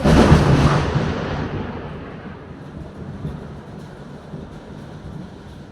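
Thunder rolls during a rainstorm with strong wind, a loud close crack that fades into a long, low rumble over steady rain.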